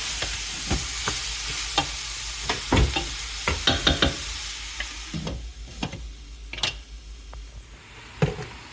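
Shredded cabbage cooks in a pan, a quiet sizzle broken by repeated scraping and clacking strokes of a utensil stirring it, close and uneven in rhythm.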